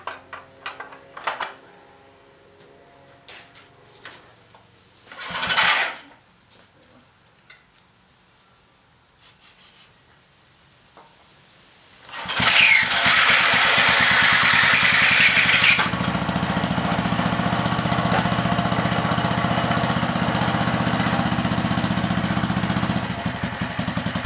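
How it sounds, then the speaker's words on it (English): A 1971 small engine with its plastic shroud rubbing against metal gives off a loud, sustained scraping screech once it starts, after a few quieter knocks and clunks at first. "This shroud in here has plastic in here, and it was riding up against this metal"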